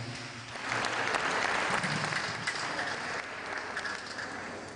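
A church audience at an anniversary gospel concert bursts into loud, sustained applause and cheering that swells after a brief lull and carries on steadily to the end.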